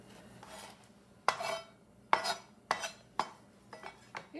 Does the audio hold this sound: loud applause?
no